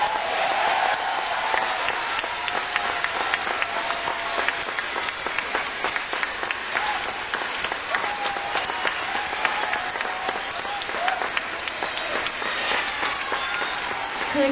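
Audience applause fills an outdoor concert at an open-air music venue during a 2007 band tour, a dense, steady sheet of clapping that holds loud and continuous from start to finish.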